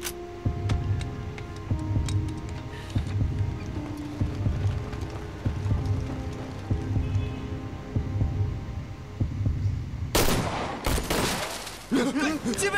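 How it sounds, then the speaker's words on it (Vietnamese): Rhythmic horse hooves clip-clop throughout, then a burst of loud gunshots cracks out near the end, echoing sharply. "Thuận Tử, đừng bắn loạn."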